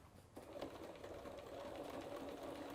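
A sewing machine stitches steadily while tying a quilt, running back stitch and straight stitch in a continuous close hum from just after the start to the end.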